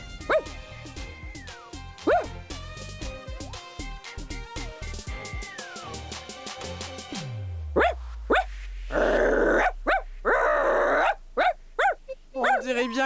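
A voice imitates an enraged dog, growling and barking in harsh repeated bursts. It comes after a stretch of music and stays loud and close, with short gaps between the barks.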